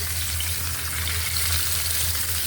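Fish heads frying in oil in a frying pan give a dense, even hiss of sizzling fat that runs continuously and fairly loud, with no distinct stirring or voices.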